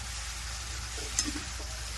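A tempering (vaghar) of fenugreek greens sizzles softly in a pan, with a faint, even fry and one small clink partway through.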